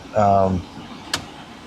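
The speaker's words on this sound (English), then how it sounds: "my remote mirrors work just fine" The electric remote side mirrors on a 2013 Mercedes-Benz SL 63 AMG give a short, close motor whine lasting about half a second, followed by a single faint click in the quiet car interior.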